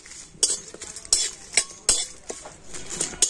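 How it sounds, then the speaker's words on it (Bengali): Dried red chillies and bay leaves being fried in a pan for a rural-style jujube (kul) pickle, heard as a series of sharp spoon scrapes and clinks against the pan over a faint background sizzle, with no talking. "তো শুকনো লঙ্কা আর তেজপাতাটা আমি একটু ভেজে নেব।"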